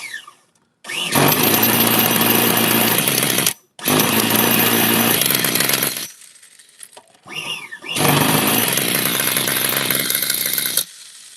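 OS 26 four-stroke nitro RC engine running rich during tuning after a rebuild, a loud close buzzing rattle in long bursts that drops out twice briefly, sputtering and revving back up.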